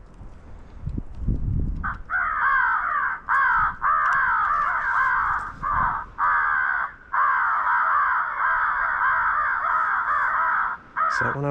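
Crows caw loudly and repeatedly in long harsh runs with short gaps, close by outdoors at a hunting spot with crow decoys set out in front.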